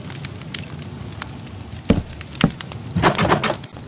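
Campfires in the Minecraft video game crackle and pop with several sharp, woody snaps over a soft continuous hiss.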